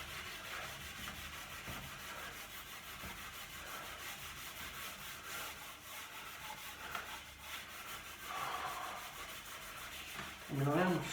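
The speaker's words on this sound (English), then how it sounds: "I mean, I am still having to scrub it a bit" Steady rasping scrubbing on the wood of a small bookcase being stripped, a continuous close rubbing stroke with slight swells in intensity and a brief louder scrape near the end; no one speaks.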